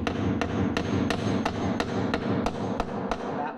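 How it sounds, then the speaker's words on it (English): A hammer drives a bolt flush into a stage platform leg, ringing metallic blows landing in a steady rhythm about three per second, close and loud, with no voices. "I need to hammer. That flush, no washer on that side."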